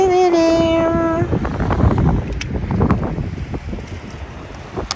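Coastal wind at Perros-Guirec buffets the microphone in rough, uneven gusts after a brief tonal cry at the start, loud and close with no clear talk.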